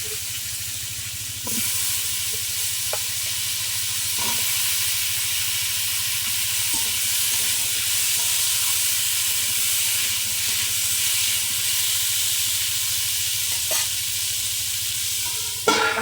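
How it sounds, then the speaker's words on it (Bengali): Potatoes rubbed with salt and turmeric fry in oil, giving a loud, steady sizzle up close with occasional faint clinks and a sharper sound at the very end. "লবণ হলুদ মাখানো আলুগুলো ভেজে নেব।"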